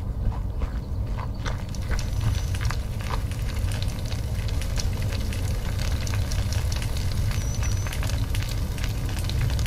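Bug meat cooking over an open fire, a steady crackle and sizzle with scattered sharp pops and clicks running throughout, close and fairly loud, no talking.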